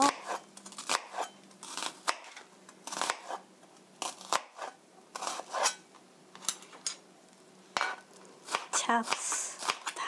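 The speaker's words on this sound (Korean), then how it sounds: "먼저 양파를 이렇게 칼집을 넣어서" A knife scores and minces an onion on a cutting board, making a run of short, crisp cutting taps and scrapes in uneven bursts, fairly close and moderately loud, with no talk over it.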